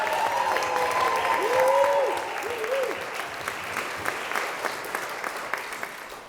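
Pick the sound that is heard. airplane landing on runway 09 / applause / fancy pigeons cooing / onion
applause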